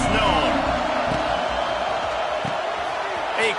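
Dense roar of a big stadium crowd in the college football video game NCAA 25, a steady loud wash of cheering and noise throughout with scattered thumps and a brief swell near the end.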